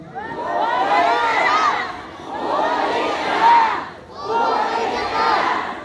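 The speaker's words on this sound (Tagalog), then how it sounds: "Sigaw nga tayo na marinig sa bakod." A political rally crowd in the Philippines roars with shouting and cheering in three loud, sustained waves, each swelling and then briefly easing before the next.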